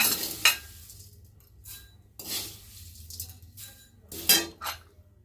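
Nigella seeds go into hot mustard oil in a pan, producing bursts of sizzling and crackle between quieter gaps, with utensil clinks against the pan.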